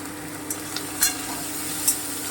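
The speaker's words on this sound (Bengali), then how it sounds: "একটু ভেজে নিচ্ছি" Cashews and raisins with a pinch of salt and turmeric fry in a pan, a steady close sizzle broken by a few light stirring clinks and scrapes, with no talking.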